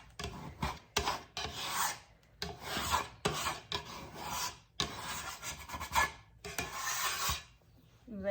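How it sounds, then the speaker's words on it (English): A scraper rasps across a countertop, pushing off stuck bread dough in a series of rough strokes with brief pauses between them, close up and without talk. "So I just take my scraper and scrape it up."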